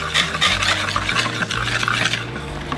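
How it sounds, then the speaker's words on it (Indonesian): Poffertjes batter mixed with melted butter in a bowl gives a loud, continuous wet stirring and swishing close by, with no voices. "Langsung kita campur adukan menjadi satu. Kita tuang melted butter, mentega cair, semuanya."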